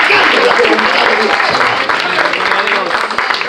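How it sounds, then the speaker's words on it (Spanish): A church congregation breaks into loud, dense applause during a sermon, sustained clapping heard close for a few seconds and tapering slightly near the end. "Fuerte ese aplauso"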